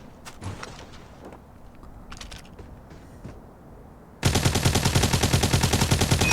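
UL736 light machine gun test fire in a shooter game: quiet mechanical clicks and creaks, then a sudden loud, rapid automatic burst of evenly spaced shots lasting about two seconds.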